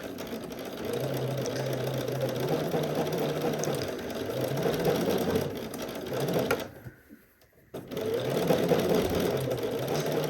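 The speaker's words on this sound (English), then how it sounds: "So I'm just going to sew right back over that previous stitching line." A sewing machine runs steadily as it stitches back over an earlier seam, its close, even mechanical hum broken by one brief pause before it resumes.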